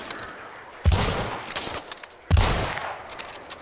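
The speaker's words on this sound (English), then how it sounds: "Still got another one firing at me." Two loud, close bursts of gunfire from the video game Hunt: Showdown, each a sharp crack trailing off into a noisy echo, about one and a half seconds apart.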